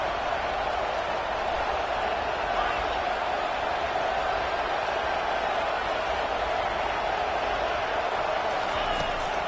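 Stadium crowd at a football game roaring steadily to rally the defense before a red zone stop, a dense continuous wall of noise throughout.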